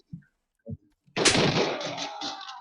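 Gunfire in the tactical shooter Ready Or Not: after a couple of short low thumps, a loud sustained burst of shots rings out and decays with echoing reverberation.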